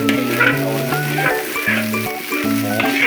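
Chicken being stir-fried in a giant wok for a southern Thai-style spicy stir-fry, a steady sizzle running beneath a louder tonal, melodic background.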